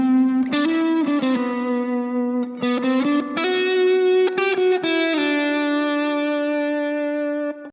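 A distorted electric guitar plays a short lick moving from the root note up to the fifth, heard up close as several bent and slid notes that end on a long sustained tone.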